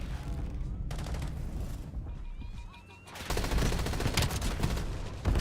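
Rapid gunfire bursts and a grenade blast ring out in a video game shooter, dense and loud, with a brief quieter lull before a heavier barrage resumes and continues to the end.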